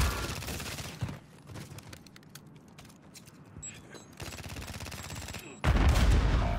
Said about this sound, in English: I hate these machine guns, bro.